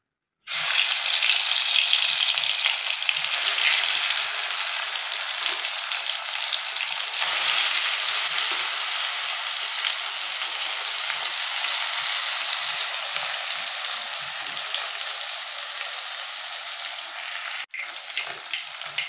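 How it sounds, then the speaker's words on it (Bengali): Fish frying in hot oil in a pan, a loud continuous hiss and crackle that holds steady for the whole stretch with no talking. "তো তেলটা গরম হয়ে গেছে, এখন আমি মাছগুলো ভেজে নিব।"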